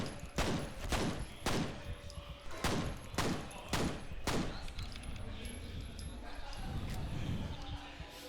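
Rapid gunfire from the shooter video game F.E.A.R., a burst of about eight sharp, loud reports in quick succession followed by a rumbling, muffled tail, with a voice talking over it.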